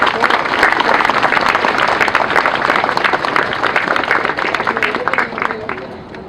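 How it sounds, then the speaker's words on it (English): A large crowd at a memorial and reburial ceremony for fallen paratroopers gives a sustained round of applause, dense and steady clapping throughout that fades slightly toward the end. "I'd like to just ask you for a round of applause for our Marine Band and the"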